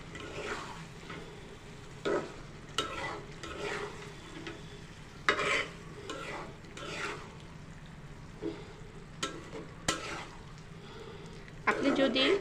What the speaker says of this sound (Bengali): এটা এখন নেড়ে নিচ্ছি। এটা ভালোভাবে আমি কষিয়ে নিব।